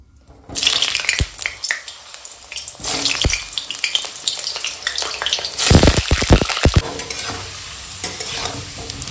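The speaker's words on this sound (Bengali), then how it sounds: "তো চলো আগে আলুটা একটু ভেজে নেবো তেলের কড়ায়, তেল গরম হয়ে গেছে।" Potato pieces hitting hot oil in a wok: a loud sizzle bursts out and keeps going, with repeated scraping and clattering stir strokes close by and a sharp cluster of knocks midway.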